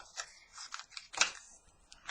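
Tarot cards being shuffled by hand, a series of soft, quick riffling and flicking bursts, faint and close, with a sharper snap near the middle.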